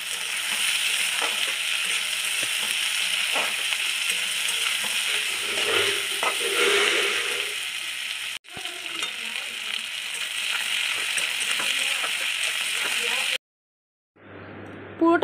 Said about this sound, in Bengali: পেঁয়াজটাও ভেজে নেব।